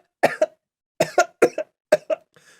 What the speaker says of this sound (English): Jennifer is coughing